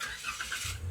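A Toyota Rush started with its keyless push button from inside the cabin: a short crank and the engine catching, then settling into a low steady idle at close range.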